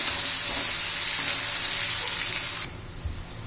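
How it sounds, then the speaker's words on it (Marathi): Green garlic shoots sauté in hot oil with a pinch of asafoetida, producing a bright, constant hiss that cuts off abruptly, leaving near-silence. "आता लसूण पात छान अशी परतून झालेली आहे"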